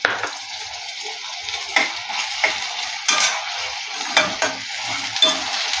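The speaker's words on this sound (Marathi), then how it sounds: "पुन्हा हे मिक्स करून घेऊया" A cauliflower, tomato and pea curry is stirred in a pan, giving a steady sizzle with repeated scraping clinks of a spoon against the metal at a close, moderate level.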